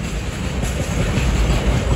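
A MEMU passenger train, number 66560, runs out of Anantapur railway station toward Bengaluru, giving a steady, loud rumble of wheels and carriage noise throughout.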